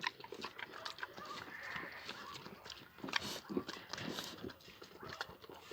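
Pigs grunt and snuffle close by in a noisy farmyard, with a person talking over the animal sounds.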